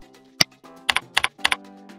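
Someone types on a computer keyboard while entering boiler details into an online form, a handful of crisp, close key clicks in a quick irregular cluster over a faint steady hum.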